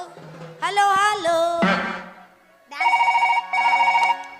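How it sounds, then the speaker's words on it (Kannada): A phone ringtone plays loudly nearby during a stage comedy play, a melodic tone followed by two bursts of a trilling ring. "ಫೋನ್ ಬಂದೈತಿ ರಿಂಗ್ ಆಗೋ"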